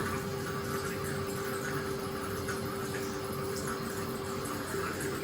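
Tap water runs steadily into a bathroom sink during face washing, a constant close splashing flow with no clear breaks.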